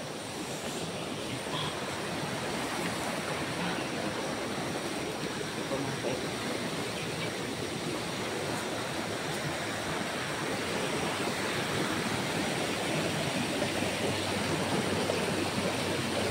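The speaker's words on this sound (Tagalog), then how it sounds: "Ganda ng sapa mga kaiba." A creek flows steadily nearby, a continuous close rushing and babbling of water that stays even throughout with no pauses.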